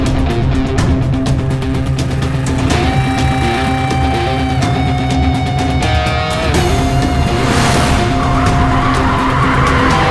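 A vehicle drives off hard with its tyres skidding and squealing, loud and close over a roaring engine, the screech rising and shifting over ten seconds.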